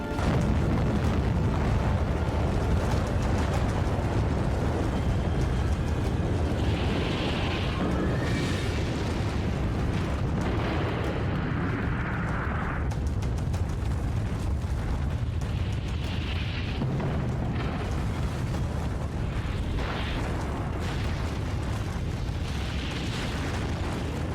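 Russia's Sarmat intercontinental ballistic missile at its test launch, a loud, continuous rocket roar that rumbles without a break for the full twenty-odd seconds, with no talk.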